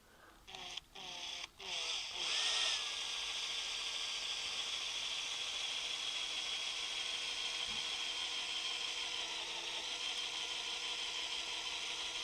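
A power drill bores holes through wood for a garden project: a few short starts, then a steady, loud, continuous whirring drone for about ten seconds, close by.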